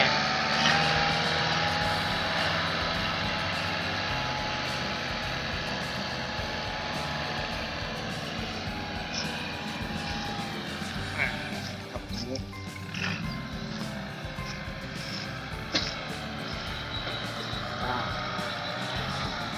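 A Kubota L4708 tractor fitted with a new front dozer blade runs in Bang Pla Ma, Suphan Buri, giving a steady, fairly close engine drone that continues without pause for the whole stretch.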